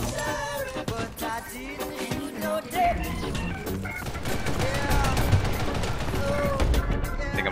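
Gunfire in the Ghost in the Shell video game, bursts of rapid shots and fusillades heard under game music and effects, with someone talking over the action.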